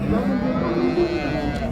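Calves at the Shymkent cattle market give a low, drawn-out moo against crowded market background noise, while people talk nearby.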